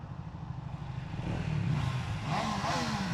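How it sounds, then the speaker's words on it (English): A new Yamaha MT-07 motorcycle engine revs up close, a low idling rumble that swells into a louder, rising rev toward the end. "Give me a last rev."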